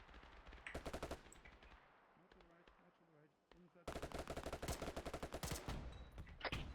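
Bursts of machine gun fire in a military video game, loud and rapid, with a quieter gap in the middle before heavy sustained firing resumes; voices talk over parts of it.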